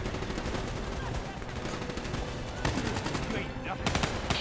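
Sustained automatic gunfire aimed at a VTOL aircraft in the video game Call of Duty: Black Ops 3, a dense continuous barrage with louder bursts near the end.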